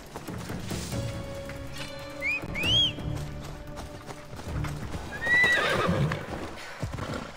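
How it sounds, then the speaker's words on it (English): In Assassin's Creed Odyssey, a horse neighs twice in high, rising whinnies over steady galloping hoofbeats, with game-like thuds and clatter throughout. "Horse."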